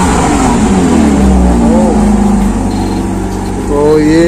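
Close and loud, a Porsche Boxster on its stock exhaust rumbles and then revs, its engine note climbing and dipping in smooth sweeps before surging again at the end.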